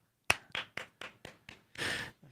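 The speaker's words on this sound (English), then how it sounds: "A little golf clap." A polite golf clap: about eight soft, evenly spaced hand claps, close and alone, with one slightly longer, fuller clap near the end.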